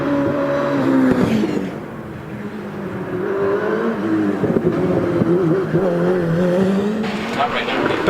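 Hillclimb race car at the Prescott British Championship lapping the course, its engine revving and droning with rising and falling pitch and a touch of tyre squeal, under continuous live commentary.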